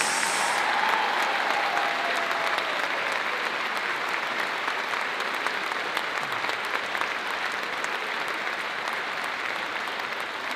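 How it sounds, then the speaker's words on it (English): Sustained, even applause fills a large room as a school district opening-day audience honors its Superintendent's Parkland Pride Award winners, a dense crowd clapping steadily for over ten seconds. "Let's have another round of applause for our Superintendent's Parkland Pride Award winners."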